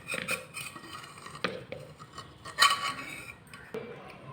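A palm cake is turned out into another pot, giving scattered clinks, scrapes and knocks of utensils against the dish in a quiet kitchen, with a sharper metallic clatter partway through.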